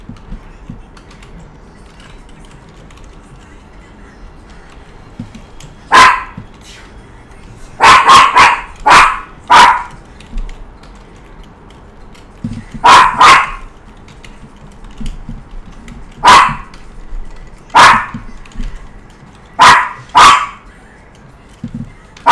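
A pet dog barks in short sharp bursts, in clusters of one to three spaced across the scene, moderately close against a quiet room with faint keyboard typing beneath.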